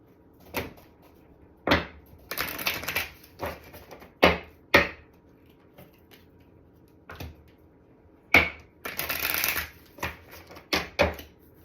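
Moonology oracle cards being shuffled, bursts of riffling and tapping that come in short irregular clusters separated by quiet gaps, close and clear with no talking.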